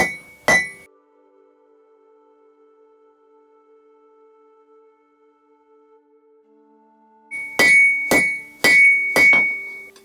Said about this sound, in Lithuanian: kalu juostą per vidurį